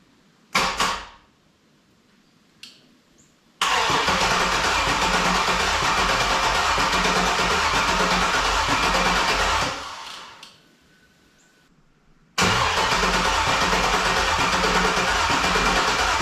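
A 1965 Chevrolet C10 with a swapped LS V8 on standalone wiring cranks briefly, catches and runs at a steady loud idle, cuts off, then fires again and keeps running.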